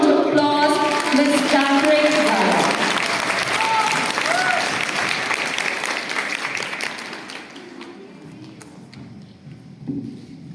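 An audience at a college seminar on women police stations applauds loudly and steadily at first, then the clapping fades out over several seconds, with voices mixed in.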